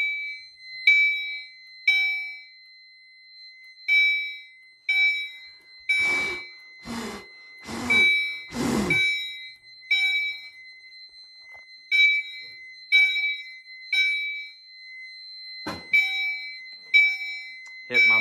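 A home fire alarm system's smoke detector sounds during a test, giving repeated bright electronic ding-like tones in a steady rhythm with a continuous high tone underneath, while a person talks briefly partway through.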